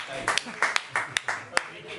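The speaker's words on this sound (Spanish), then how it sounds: "Un aplauso a Paco Vega, hombre." Scattered hand claps at a science talk honoring Paco Vega, a few sharp, close claps in an uneven rhythm mixed with ongoing speech.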